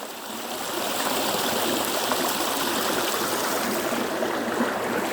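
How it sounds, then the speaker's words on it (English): Lottering River rushing over a low water bridge, a steady broadband wash of flowing water close by and fairly loud, continuous throughout with no voices. "this is the Lottering River. This is the low water bridge. There's the Lottering River."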